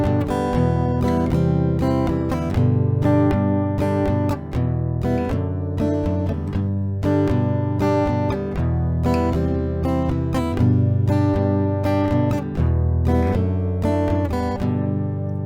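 An acoustic guitar strums the verse chord progression of a song at standard tempo, with a steady rhythm of close, bright strums through several rounds and no voice over it.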